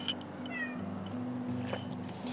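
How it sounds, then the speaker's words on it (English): A cat, Luna, meows indoors, a couple of short, close mews over a low steady hum, with faint background noise. "I think my cat wants to join the tea party, but Luna is probably gonna..."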